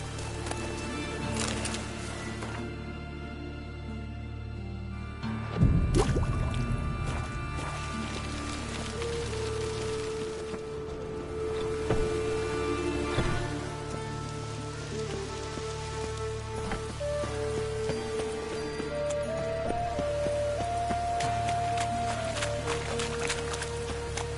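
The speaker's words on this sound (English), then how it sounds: "It's raining again." Rain in The Witcher 3 patters steadily on a surface throughout, with a sudden thump partway and faint tones and music drifting underneath.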